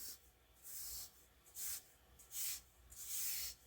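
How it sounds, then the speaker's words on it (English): A spatula mixes and smushes a shower steamer mixture with chunks of yellow and blue colorant, giving several quiet, soft rubbing scrapes in short bursts with brief pauses between them. "I'm going to take my spatula and try to mix it up, or try to smush it up as possible"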